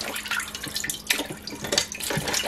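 Tap water runs steadily at close range while a cooked crab, cracked in half, is rinsed and cleaned, with brief splashes and clatter over the continuous flow.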